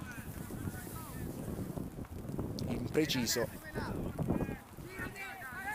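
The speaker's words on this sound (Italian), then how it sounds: "anche un po' di vento ora al campo sportivo" Wind buffeting the microphone at the Maurizio Melli sports field during an amateur football match, gusty rumbling under a commentator's voice and crowd noise.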